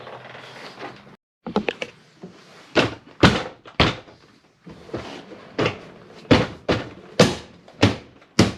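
A door panel on a 2000-2011 Cadillac DeVille is pressed back into place, a series of sharp plastic clip snaps and firm thumps arriving in irregular bursts, close and loud, with a brief quiet gap early on.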